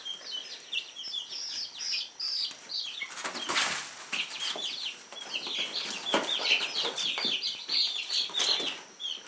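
Chickens cluck and squawk close by while wings flap in several loud bursts, with busy clucking continuing throughout.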